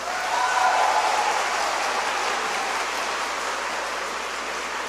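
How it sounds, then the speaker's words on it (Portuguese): A church congregation breaks into sustained applause, a thick, even wash of many hands clapping that holds steady throughout without any talking. "Pode aplaudir"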